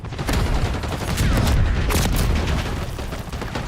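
Dense, sustained gunfire from a Call of Duty Black Ops 6 match, a continuous loud barrage of overlapping shots and booming impacts with no clear pauses.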